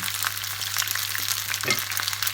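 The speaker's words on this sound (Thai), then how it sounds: "ก็จะทอดไปอย่างนี้ ปิดฝาเข้าไว้อีกสัก ห้านาที" Gyoza dumplings fry in a pan with a steady, close crackling sizzle that runs throughout, spitting bursts of oil over a constant low hum, no voices.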